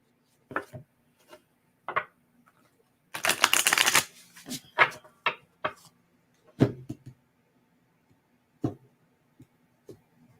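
Tarot cards being shuffled by hand, with a dense burst of riffling and scattered short clicks and taps of cards before and after, close and fairly quiet.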